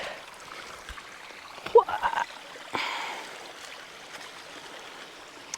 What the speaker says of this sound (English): Okay, now for some river crossings.